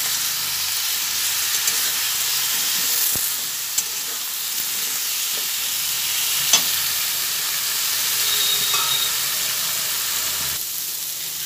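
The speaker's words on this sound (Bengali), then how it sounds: "সবজিগুলো কিছুটা ভেজে নিতে নিতেই এর মধ্যে একটু জায়গা করে নিলাম।" Tender drumsticks and mixed vegetables frying in oil in a pan for a neem-leaf curry, a continuous loud hissing sizzle with occasional faint clicks of a spatula.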